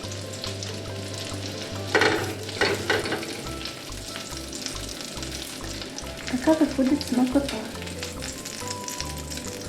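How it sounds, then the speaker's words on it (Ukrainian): Chicken cutlets sizzling and crackling steadily in oil in a pan, with a brief remark spoken in Ukrainian over the frying and a few louder spatters. "я продовжу смажити"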